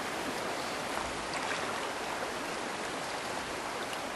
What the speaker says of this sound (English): Whitewater's always exhilarating